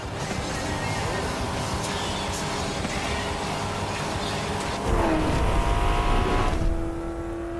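Racing cars in the video game Forza Horizon 5 rev and roar through a race, engines rising and falling with a sharp surge of acceleration near the end, a dense loud motor drone throughout.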